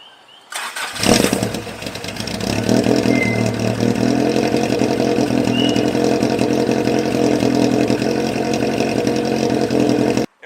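A car engine cranks and catches after about a second of near silence, then settles into a steady, loud idle that runs alone for roughly nine seconds before cutting off abruptly.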